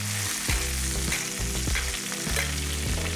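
Halibut basted in a hot pan on medium heat gives a loud, continuous sizzle and crackle, with rhythmic scraping of a spoon drawing up fat.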